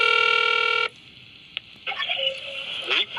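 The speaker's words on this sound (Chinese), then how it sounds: "打电话给吴志成拢无回应" A telephone call is dialed: a steady line tone stops abruptly, then comes a single click and a short run of electronic phone tones, fairly close and clear.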